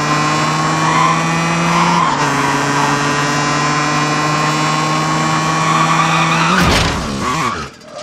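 A car driven in Call of Duty Warzone, with a steady droning engine held at constant revs, then a shift in pitch, followed near the end by a brief screech and rumble before it fades.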